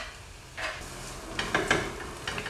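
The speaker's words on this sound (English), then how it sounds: "the onion has been frying in here on its own for about 4 or 5 minutes now" Chopped onion frying alone in a large frying pan for a broccoli dish, with a soft steady sizzle and a few brief stirring scrapes.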